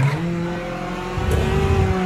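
Toyota GT-One race car braking at night in Project Cars 2 at Le Mans, a steady loud engine drone that shifts pitch as it slows, with a brief tire noise, no voices.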